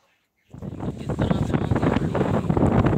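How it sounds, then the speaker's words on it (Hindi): Strong gusting wind during a sudden morning storm, a loud rough rushing that starts abruptly and buffets the microphone continuously. "बहुत तेज़ हवाएं चलने लगी हैं"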